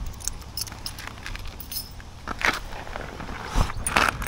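A bunch of keys jangles close by in a few short, bright metallic bursts during floating tests, with no one talking.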